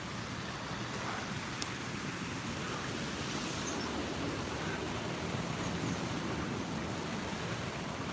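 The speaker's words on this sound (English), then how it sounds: "I'm hanging about this waterfall." A waterfall roars as a steady, dense wash of rushing water, constant and full throughout with no talk over it.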